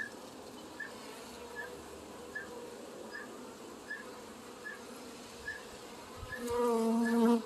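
Honey bees hum in a constant close drone around a porch hive during a hive inspection, and the buzzing swells louder near the end.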